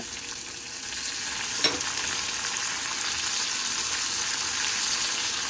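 Curry leaves and small shallots frying in hot oil for a chicken curry, a steady close sizzle throughout with a brief sharper crackle as they hit the pan.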